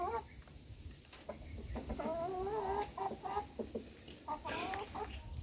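A small Rhode Island Red hen clucks in a series of short, nasal, rising calls close by, with soft farmyard ambience underneath.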